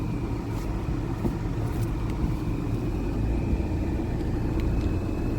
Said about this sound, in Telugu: ఆల్ట్రోస్ కొత్త ఫేస్ లిఫ్ట్లో మన డ్రైవింగ్ ఎక్స్పీరియన్స్ ఎట్లా ఉందో చూద్దాం